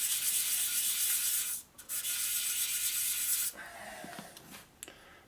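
A 1957 Harley-Davidson panhead cylinder head surface being sanded by hand in circular strokes, a steady close abrasive rubbing that pauses briefly, then resumes softer and more scratchy with small irregular scrapes.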